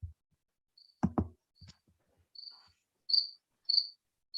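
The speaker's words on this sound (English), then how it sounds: "I keep on hearing crickets in the background." Crickets chirp in short, high, regularly spaced bursts during a public board meeting, faint and alone, with a couple of soft knocks early on.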